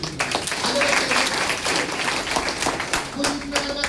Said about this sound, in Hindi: जोरदार ताली बची APL के लिए।